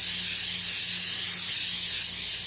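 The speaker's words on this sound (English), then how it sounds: "A little coconut spray." A continuous close hiss of coconut oil cooking spray, used while cooking Dollar Tree veggie burgers, sustained and loud for a couple of seconds without pause.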